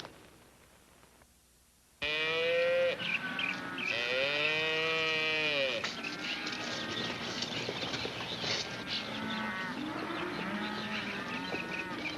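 Cows moo loudly in long, drawn-out calls, one after another, with birds and farmyard fowl chattering in the background of an outdoor ranch setting.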